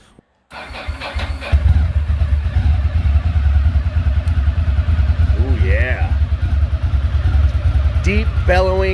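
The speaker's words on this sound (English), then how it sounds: "Deep bellowing Ducati L-twin 992cc aggressive sound." A 2005 Ducati ST3 sport-touring motorcycle with a 992cc L-twin engine starts up and settles into a loud, deep, bellowing idle close by, with someone speaking briefly near the end.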